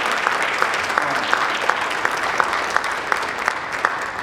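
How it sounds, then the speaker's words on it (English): Applause fills the hall at the Paducah Tilghman High School Instrumental Music Department Christmas concert, a dense, loud, sustained wash of many hands with a few sharper claps standing out at a steady beat. "let's give a round of applause for that"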